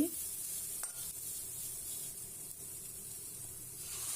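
Coriander powder and red chilli powder fry in a pan while being stirred, making a faint, even sizzle with one brief scrape early on.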